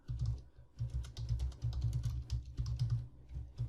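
Code is being typed on a computer keyboard for a PHP project, with quick, soft, steady keystrokes in close irregular clusters and no voices.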